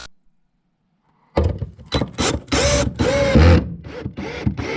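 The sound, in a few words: hammer drill in hammer mode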